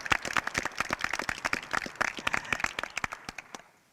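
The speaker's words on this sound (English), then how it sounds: "We can clap for that." Clapping from the crowd at a ribbon cutting for a county waste transfer station and recycling center, a modest group of distinct, sharp claps in a loose rhythm that taper off and stop near the end.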